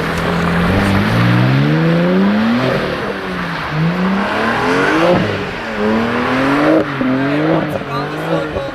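A BMW M car drifts a full circle on a drift course, with its engine revving up and down in repeated surges as the throttle is worked. The engine is loud and close and runs without a break.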